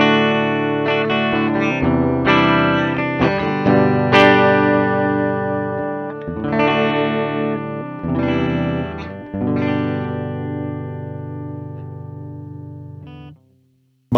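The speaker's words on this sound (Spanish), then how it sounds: "Cable conectado al G200 y esto es cómo suena" Electric guitar played through a Mooer GE200 multi-effects unit set to a clean Fender Twin Reverb amp emulation: sustained chords and picked notes with shimmering chorus and reverb, loud and close, ringing out for about fourteen seconds before cutting off.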